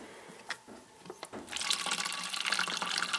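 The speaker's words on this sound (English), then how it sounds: "You can see the water coming into the bottle." Filtered water squeezed slowly through a Sawyer Mini filter streams into a bottle, starting with a few faint drips and splashes before becoming a steady, close hiss of running liquid.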